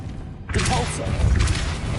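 A Depulso force spell strikes in Hogwarts Legacy, a single loud whooshing blast with low thumping weight that swells in and stays strong, with a voice heard under it.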